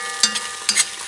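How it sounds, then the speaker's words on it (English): A spoon stirs the sizzling base for Lebanese oxtails in a pan, two scraping stirs over a constant close frying hiss, with no talking. "I'm going to mix things around."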